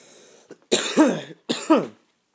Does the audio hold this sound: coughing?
yes